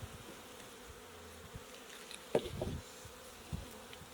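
Honey bees hum softly around an open hive during a brief inspection, with a faint buzzing drone, a few louder passing buzzes and some light knocks.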